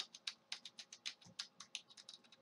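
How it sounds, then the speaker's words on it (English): Arrow keys on a computer keyboard are hammered rapidly while a PC game is played, producing a steady, dense stream of crisp, close key taps at an even, fast rhythm. "I'm just spamming all the arrow keys right now."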